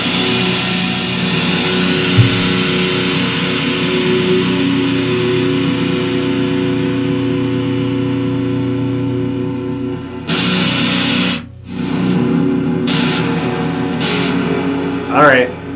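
Electric guitar through a Valeton Coral MDR multi-effects pedal on its spring reverb setting, sustained chords ringing with a washy reverb tail, steady and close, with brief gaps where the notes are cut off.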